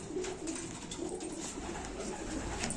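Pigeons cooing softly and continuously at a distance in a rooftop pigeon loft, a low rhythmic murmur with no talking.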